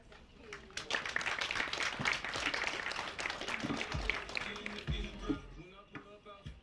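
A crowd at a half marathon ceremony gives a round of applause, a moderately distant, broad patter of clapping that swells and eases, with voices talking over it.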